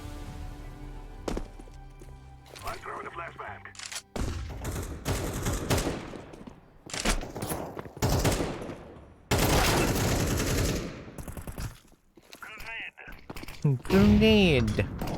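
Gunfire in the video game Outlast, with bursts of rapid shots and heavy impacts amid game noise, loud and close, with a person talking over the action.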